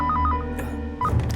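A telephone ringing with a short electronic trill, a couple of quick pulsed rings close by, followed by muffled movement and low background sound.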